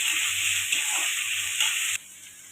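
Tomato and onion sautéing in a pan for a potato kurma, a steady close sizzle with faint stirring scrapes that drops to a quieter hiss near the end.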